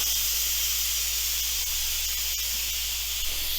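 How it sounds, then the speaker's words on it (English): Steam hisses steadily and continuously from the pressure release vent of a 3-quart Instant Pot Ultra pressure cooker, a loud, even rush without pause. "Now you're gonna wanna keep your hand obviously away from the steam, it gets hot"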